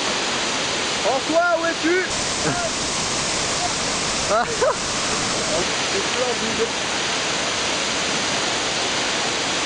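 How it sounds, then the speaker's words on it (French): Roaring waterfall at the Umphang cascade, a dense steady rush of falling water that fills the whole clip, with several people talking excitedly over it. "Au plus haut niveau de la cascade."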